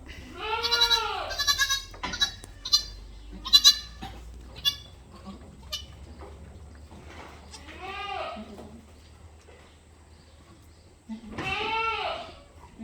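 Goats and a newborn kid bleat in a colony pen on a crossbred goat farm, repeated loud close calls, some short and high, others longer, with brief pauses between.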